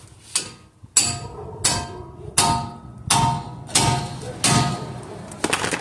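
Sharp metal hammer strikes on a tool to knock out the inner tie rod end of a 2005 Infiniti FX35, seven loud ringing blows at a steady pace of about one per second, close by.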